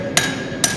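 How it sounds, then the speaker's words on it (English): A hammer strikes metal twice during hoof work on a horseshoe, two sharp ringing blows spaced about half a second apart, close and loud with no talk. "And so I want to come down with my hammer"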